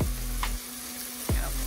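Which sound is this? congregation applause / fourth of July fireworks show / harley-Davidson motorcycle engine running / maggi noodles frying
maggi noodles frying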